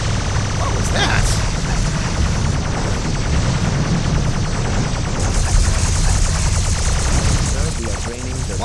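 A starship blows apart under torpedo fire in the Star Trek Bridge Commander game, a dense, continuous roar of rumbling blasts and crackling debris that stays loud for the whole stretch, with voices mixed into the din.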